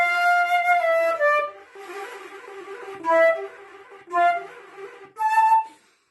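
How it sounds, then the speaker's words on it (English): A solo flute plays Popp's Study No. 6 with breathy, airy wind sounds added to the lower accompaniment notes, while clearer melody notes stand out in bursts, close and unaccompanied. "I added wind sounds to this study to make the difference very big."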